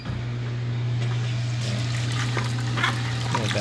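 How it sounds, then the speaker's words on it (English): A dishwasher draining, with a steady low pump hum and continuous close water rushing and trickling under it. "Evacuate the water out."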